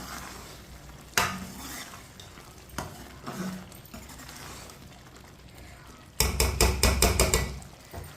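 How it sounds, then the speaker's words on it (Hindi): White chana masala cooking in a pan with oil poured in, a steady sizzle broken by scraping stirs and clanks of a spoon against the pan, ending in a burst of loud rapid stirring knocks. "जो हमने ऑयल निकाला था वो भी डाल लेंगे। इसे भी मिक्स कर लेंगे।"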